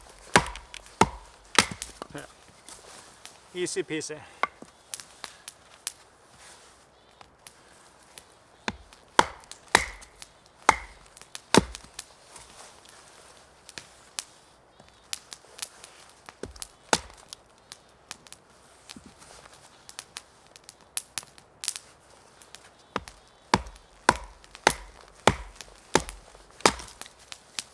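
Wood is split and chopped with bushcraft tools, an axe, knife and saw, giving sharp, close, irregular knocks and cracks that are spread over a long stretch with quiet gaps, and a brief spoken remark partway through.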